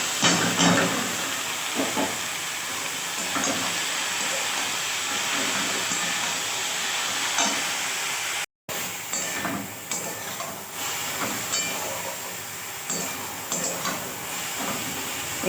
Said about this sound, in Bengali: এবার এর মধ্যে আমি সবজিগুলো সব দিয়ে দেবো।